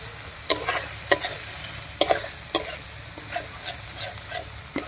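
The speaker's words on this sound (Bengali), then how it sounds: "সব মশলাগুলো দিয়ে খুব ভালো করে নাড়িয়ে নিয়েছি।" Spices with egg and pointed gourd stirred in a frying pan: a spatula scrapes in a steady rhythm of sharp clicks over a soft continuous sizzle, close up and without speech.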